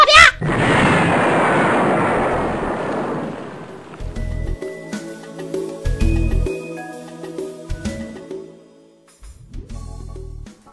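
A big explosion sound effect in a Korean radio drama: a loud opening blast followed by a long rumbling roar that fades, then several heavy thuds and a closing boom, with no talking.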